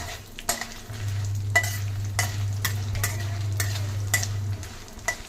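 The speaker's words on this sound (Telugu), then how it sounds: "ఎండుమిరపకాయలు పచ్చిమిరపకాయలు రెండు వేసాను" Dried red and green chillies frying in a pan for drumstick-leaf pickle, a steady close sizzle with a low hum underneath and repeated clinks of a stirring spoon, no voices.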